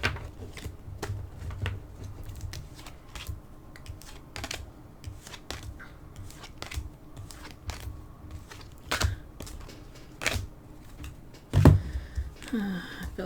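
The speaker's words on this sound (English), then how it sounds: "Shuffle them once on camera for good measure." Oracle and angel cards are shuffled by hand close up, making irregular soft clicks, flicks and papery riffles with brief pauses, plus a louder knock near the end.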